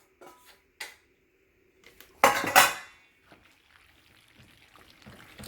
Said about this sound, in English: So you want to stir that to make sure every little noodle gets attention.